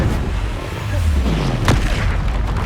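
A Confringo spell explosion in the video game Hogwarts Legacy, a loud boomy blast with a rumbling low-end sweep and sharp crack, set among continuous dense combat noise.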